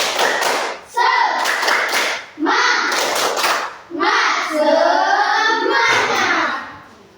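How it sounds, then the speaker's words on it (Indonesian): A group claps an energetic spirit rhythm during an ice-breaking activity, sharp bursts of clapping in short phrases with brief pauses between them, close and loud. "Tepuk semangat."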